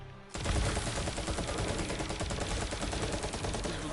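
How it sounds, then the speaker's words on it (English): Borderlands 3 combat: a dense, continuous barrage of rapid gunfire and secondary explosions starts abruptly and rattles on loudly without pause. "You can see these like secondary explosions going on."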